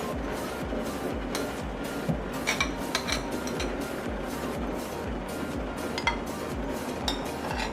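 Chili and garlic paste being stirred in a pan, a utensil scraping and clinking against the metal in a quick, regular rhythm with occasional sharper knocks, steady and close throughout.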